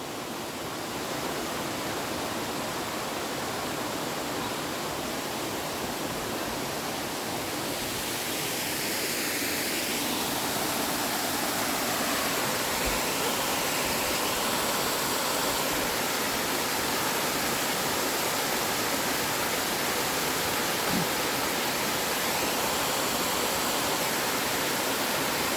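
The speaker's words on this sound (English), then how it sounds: "This is the lower stream from the falls." Steady broadband rush of a stream flowing below Hells Hollow Falls in McConnells Mill State Park, swollen with high water, with a constant close roar and no voices.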